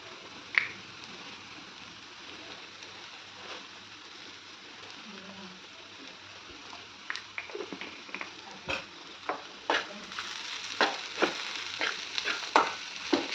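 Ivy gourd and dry coconut curry fry in oil in an Andhra-style pan, with a soft steady sizzle and sharp spoon scrapes and clicks that grow more frequent toward the end, close by.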